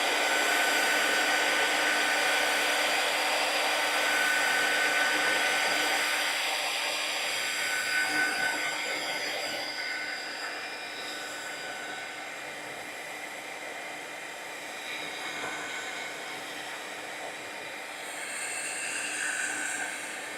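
A heat tool blows steadily close by, drying layered paste from the back, a continuous airy hiss that fades somewhat midway and swells again near the end, with no talk over it.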